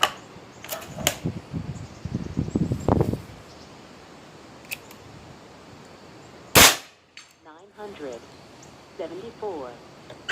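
Airforce Texan .308 big-bore air rifle, tuned to about 158 foot-pounds, fires a sharp loud crack partway through, with smaller clicks and handling knocks before it and voices talking afterward.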